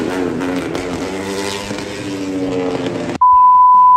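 An AP250 racing motorcycle used in the Asia Road Racing Championship revs loudly and close, its engine note rising and falling before cutting off abruptly into a steady electronic tone.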